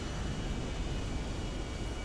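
Airplane engine in the video game GTA Online gives a steady, broadband roar, continuous and loud with no talking over it.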